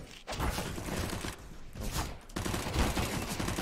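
Gunfire in the video game CS:GO, rapid bursts of automatic shots crackling in quick runs with short gaps between them, loud and close.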